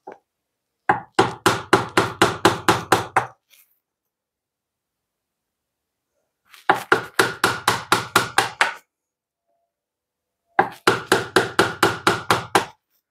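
A wooden mallet strikes a chisel while a desk drawer is built. Three bursts of about ten quick, evenly spaced knocks each are separated by pauses of a few seconds. The knocks are close and crisp, with no talking.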